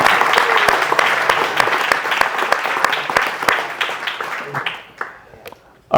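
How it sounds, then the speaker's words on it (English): Audience applause at a real estate talk, a steady wash of many hands clapping that fades out toward the end. "Can we give a round of applause for Robert?"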